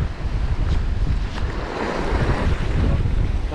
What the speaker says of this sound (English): the waves are picking up and the wind's just 40 mile an hour